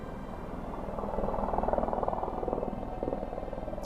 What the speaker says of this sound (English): I'm sure y'all don't want to listen to the helicopter droning on in the background